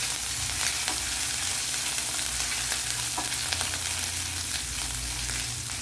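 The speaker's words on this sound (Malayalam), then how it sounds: "നല്ലപോലെ ഫ്രൈ ആക്കി എടുക്കുക." Ginger garlic paste frying in oil with fenugreek seeds, a steady dense sizzle with occasional stirring scrapes, close and continuous.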